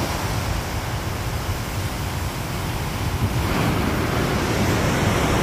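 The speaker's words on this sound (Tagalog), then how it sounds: "Lakas ng alon." Strong surf at a beach in San Juan, La Union, crashing and washing in a steady, broadband roar with wind buffeting the microphone throughout, and no voices.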